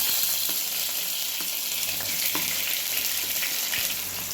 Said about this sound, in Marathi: बघा कांदा आपण आता छान असा भाजून घेऊया लाल होईपर्यंत